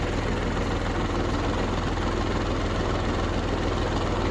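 A New Holland 757C backhoe's diesel engine idles steadily with a low, even rumble and faint knocking pulse, continuous and close, with no talk.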